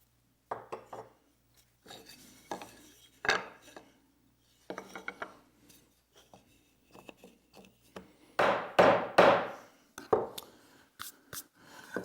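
A chisel driven by a mallet chops out a half-blind dovetail in wood, making sharp isolated knocks and scraping taps, with a cluster of louder strikes near the end amid quiet gaps.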